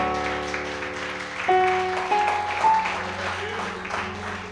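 A church congregation applauds during a communion service, clapping spread across the room under sustained keyboard chords, with rising organ-like notes sounding over the claps.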